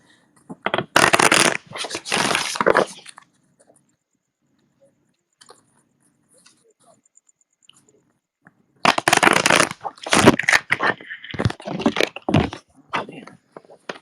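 Tarot cards are shuffled in two quick bursts of papery riffling and flicking, separated by a long near-silent pause, close up with no talking.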